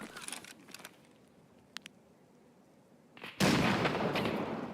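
A grenade goes off in Escape from Tarkov: faint muffled pops and clicks give way to a loud, sustained blast rumble near the end, with no talking.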